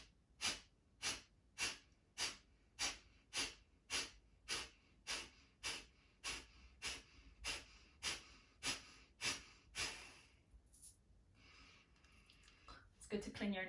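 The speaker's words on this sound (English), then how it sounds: "So if you look at my belly, I will be exhaling sharply." Sharp, forceful Kapalabhati breathwork exhalations through the nose, about sixteen rhythmic bursts at roughly one per second, close and clear, then a pause and a brief inhale or rustle at the end.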